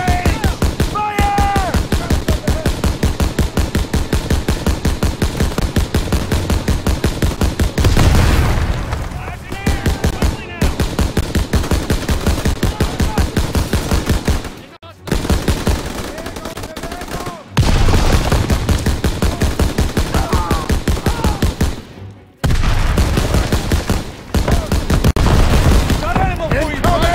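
A Call of Duty WWII battle in the Death Factory fills with loud, near-continuous machine-gun and rifle fire and booming blasts, broken by a few short silences.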